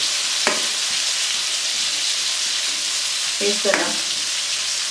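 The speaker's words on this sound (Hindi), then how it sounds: "अब हमने ये बैंगन फ्राई करने हैं और इनको बड़े ध्यान से थोड़ी थोड़ी देर बाद हम पलटते जाएंगे।" Stuffed eggplants filled with red chili frying in a pan, a steady hiss of sizzling oil running throughout, with brief scraping clatters as they are turned and a few soft words spoken.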